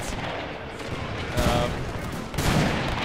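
Battle gunfire in an Anglo-Zulu War game at iNyezane forms a dense, continuous rattle of many rifles, with heavier bursts swelling midway and near the end, loud and close.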